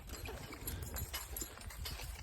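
A logging horse team walking during horse logging work, hooves giving soft, uneven clip-clops on the ground at close range, with a light rustle of movement and no talk.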